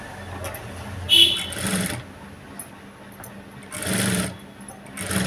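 Sewing machine with a normal presser foot stitching thread piping onto a boat neck, running in short bursts of rapid whirring with pauses between.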